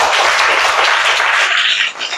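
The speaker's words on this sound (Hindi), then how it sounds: "इनके लिए ताली बजा दी भाई, ताली बजा दी।" A class of students claps together in a loud, dense burst of applause that carries on steadily for a couple of seconds before tapering off at the end.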